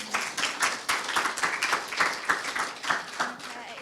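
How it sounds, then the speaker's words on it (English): A seminar audience gives a round of applause, a steady patter of handclaps at moderate distance running the whole few seconds with scattered individual claps standing out. "So I'm going to give Scottish Athletics a round of applause"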